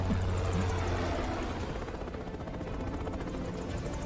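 A helicopter in the video game Metal Gear Rising: Revengeance, its rotor thumping loud and close in a steady pulsing drone with no speech.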